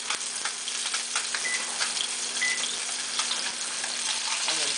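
Salmon searing in a hot pan, with a steady, close, dense sizzle and fine crackling pops that hold evenly throughout.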